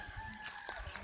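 Faint chickens cluck and crow briefly in the distance near their coop in a rural Philippine yard, over a low background hum.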